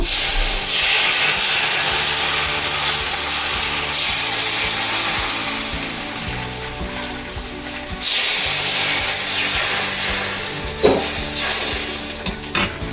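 Neer dosa batter hits a hot dosa pan greased with sesame oil and sizzles loudly, a dense close frying hiss with scraping and spreading sounds, flaring in bursts as more batter lands.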